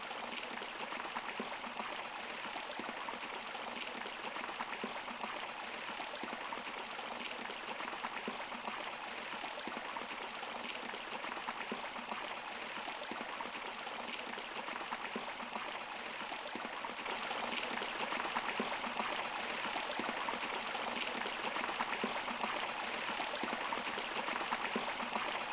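Water rushes continuously at a distance, a steady, fairly faint hiss and gurgle like a waterfall that grows slightly louder toward the end.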